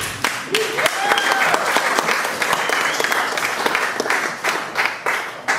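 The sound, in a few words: audience applause at comedy show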